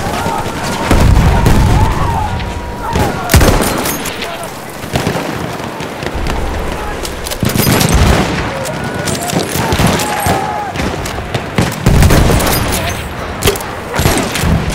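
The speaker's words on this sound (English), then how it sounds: "Bomba atıyorum!" Repeated bomb blasts and bursts of gunfire from a combat video game, heavy booming impacts layered with rapid shots and crackling debris, loud and continuous across the scene.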